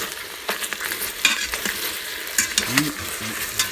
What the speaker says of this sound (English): right now we're going to begin the cooking of the smoked sausage. So right now I'm going to kind of stir this up a little bit.